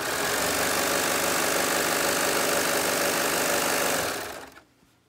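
A serger (overlock machine) stitches cotton lycra jersey in a steady, loud, continuous mechanical whir for about four seconds before winding down and stopping, with no talking.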